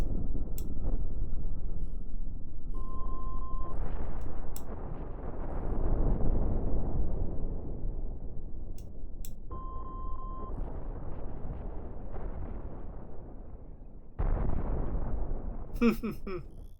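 Missiles and a ship reactor blowing up in the space game Cosmoteer: a string of loud, rumbling explosions that swell and fade in long waves, with sharp crackling bursts near the end and short electronic beeps in between.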